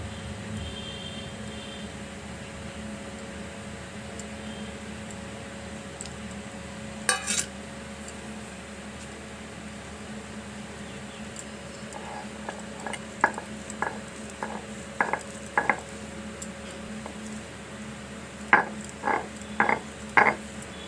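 Boiled potato being ground into a paste with chilli and salt, heard as a series of soft, regular knocks and taps that grow more frequent toward the end, over a steady low background hum.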